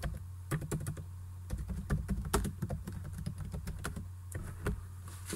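Someone types on a computer keyboard in a quick, uneven run of sharp keystroke clicks, close and fairly quiet, with no talking.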